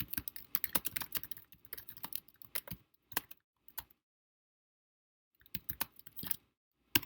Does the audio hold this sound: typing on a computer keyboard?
yes